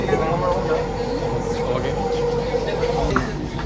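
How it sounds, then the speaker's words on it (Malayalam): A metro train rides along with a continuous loud rumble and rail noise, and voices murmur faintly underneath the steady running sound. "ഞാൻ ആദ്യമായിട്ടാണ് മെട്രോയിൽ കയറുന്നത്."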